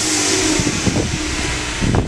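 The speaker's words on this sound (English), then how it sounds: "Let's just hear if the exhaust changes anything at all." A Ford Mustang EcoBoost with an aftermarket exhaust, its engine running close and loud with a brief rev toward the end, no talking.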